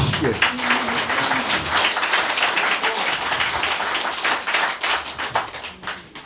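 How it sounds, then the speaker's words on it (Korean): An audience at a political lecture in Daegu breaks into loud, sustained applause, with many hands clapping close by and a voice speaking over it. "박수."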